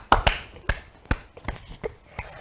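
A small audience claps a handful of times for a student during a classroom exam quiz, with sparse, separate, close handclaps spaced irregularly rather than a full ovation.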